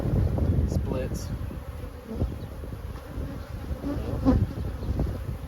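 Honeybees buzzing steadily around an open hive during a yard inspection, a dense close drone with individual bees passing near now and then, plus faint handling noises.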